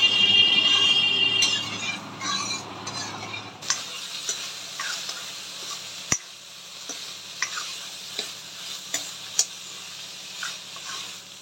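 Dal being reheated in a pan on the stove, first a louder sizzle, then a quieter simmer with sharp clicks and scrapes of stirring at irregular intervals, no talk.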